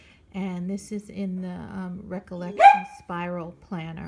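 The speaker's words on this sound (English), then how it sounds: "Sorry, that's my dog." A pet dog gives a sharp, brief bark mid-way, loud and close, in a room while someone talks steadily before and after it.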